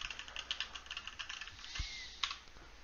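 Computer keyboard keys smashed rapidly during game engine development, a dense run of quick, light clicks and clacks close by with a couple of heavier hits, no talking.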